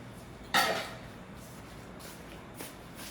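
A metal spoon clinks against a pot or dish as it is taken out, one sharp close rattle followed by quiet handling and a faint later tap.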